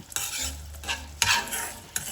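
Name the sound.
frying and stirring in a pan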